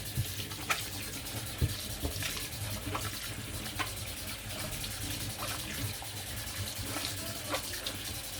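Water is poured steadily onto durum wheat semolina as it starts to form a soft dough, giving a continuous trickling wash with small splashes, close and fairly quiet with no talk.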